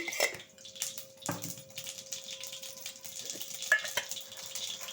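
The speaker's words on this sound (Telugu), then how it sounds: "ఆయిల్ హీట్ అయింది ఇదిగోండి ఆవాలు వేసాను" Mustard seeds splutter in hot oil in a pan for Bombay chutney, a quiet irregular crackle with scattered sharp pops and a few utensil clinks.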